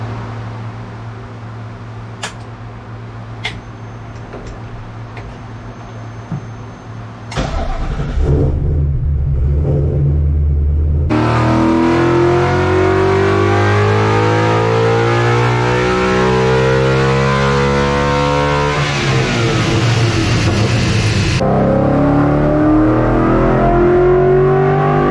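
Naturally aspirated Ford Coyote V8 car on a dyno, idling low at first, then revving hard through long climbing runs toward 9000 RPM with a loud, sweeping engine note, close and continuous with no talking.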